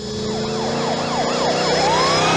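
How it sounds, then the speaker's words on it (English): A police truck siren on a 1981 Dodge Ramcharger in the film Lone Wolf McQuade wails in repeated rising and falling sweeps, loud and close, with no voices over it. "the siren sounds different depending on which truck they're using in the scene"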